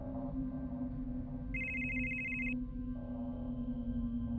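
Telephone ringing, a single faint electronic ring lasting about a second over a steady background hum, with no talk.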